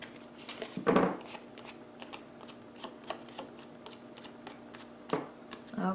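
Scissors cut paper for a handmade journal craft, giving a few quiet, crisp snips and small clicks set apart by brief pauses.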